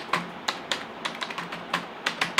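Computer keyboard typing, a gig description being entered: irregular bursts of crisp key clicks, about a dozen strokes with short pauses, close and clear with no talking.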